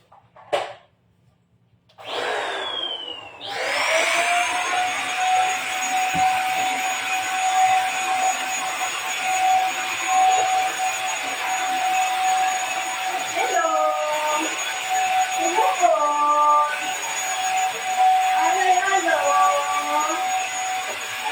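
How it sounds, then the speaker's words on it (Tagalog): A vacuum cleaner sucks up dirt and pet fur indoors. The motor whirs up from silence into a loud, steady whine, and its pitch wavers as the nozzle moves and pulls in debris. "Kaya kailangan vacuum para higop agad."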